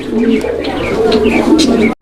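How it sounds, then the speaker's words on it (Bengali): A male racing pigeon coos up close in a rolling, repeated low purr that runs continuously and loudly, then cuts off abruptly at the end. "নরের ডাকটা দেখেন কত সুন্দরভাবে ডাকে"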